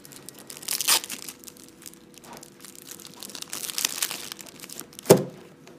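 Plastic foil wrapping crinkles and tears off German board game cards, with several close bursts of crackling and a sharp rip near the end.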